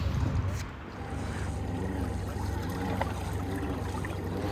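A pedal-driven cycle boat (hydro bike) churns through water with a steady low rumble and faint splashing and trickling, heard outdoors with a voice speaking over it.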